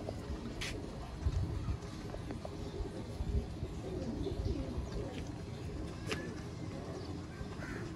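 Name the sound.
Sialkoti pigeons cooing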